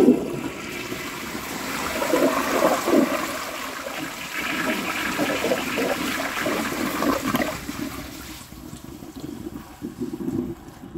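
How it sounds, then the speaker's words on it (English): A 1953 Crane Santon toilet flushing with sand in the bowl: a steady rushing, gurgling flush that tapers into trickling refill water near the end, close and alone. "I'm going to give it one more flush just to see if it can get this stuff out"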